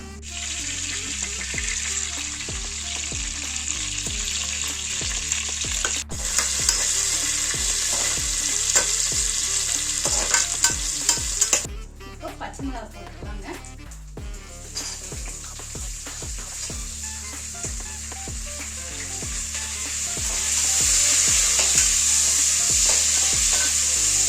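Mustard seeds, fennel, cardamom, cinnamon, cloves and bay leaf sizzling in hot oil for tomato rice, a loud close crackling sizzle with stirring clatter, swelling louder toward the end, no talk.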